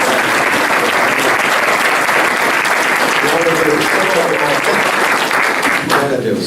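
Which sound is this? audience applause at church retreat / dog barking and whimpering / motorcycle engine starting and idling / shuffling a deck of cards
audience applause at church retreat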